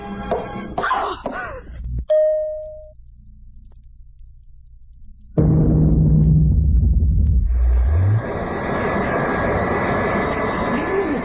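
A loud airplane engine roars in abruptly and holds a steady, droning rumble after a few quieter, tonal sounds.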